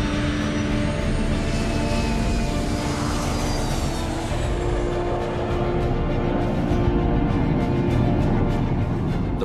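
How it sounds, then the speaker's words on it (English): A LearJet business jet accelerates down the runway for its first takeoff, a loud, steady jet-engine roar with broadband rumble and a whine that holds close and continuous throughout. "The aircraft accelerates to over 250 kilometers per hour for its first takeoff."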